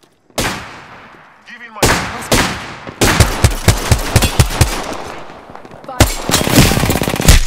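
Loud bursts of rapid gunfire in Apex Legends team deathmatch on Xbox One, cracking in short volleys with a steady run of shots near the middle, while a brief voice speaks over the action.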